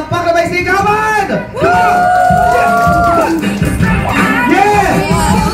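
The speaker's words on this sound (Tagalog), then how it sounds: "Palakpak na may sigawan!" A birthday party crowd yells and whoops together in loud, overlapping bursts, with excited voices rising and falling close by.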